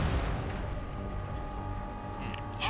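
An explosion goes off in the real-time strategy game Warhammer 40,000: Dawn of War III, with a deep boom at the start that fades into a rumbling tail amid battle noise.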